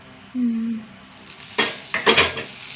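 Mustard seeds, a chilli and a pinch of asafoetida hit hot sesame oil, giving a few sharp bursts of sizzling and crackling close by after a brief low hum.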